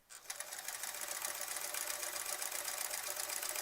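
A sewing machine quilting through thick appliqué, starting up and then running in a dense, fast, steady mechanical whir, loud and close, with no voices.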